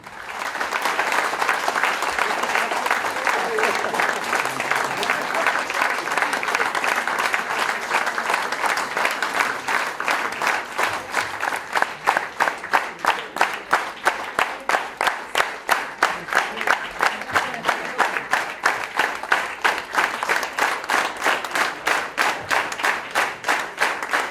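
A crowd at a retirement farewell gathering applauds at length, with dense, loud clapping that turns into rhythmic clapping in unison and keeps a steady beat through the second half.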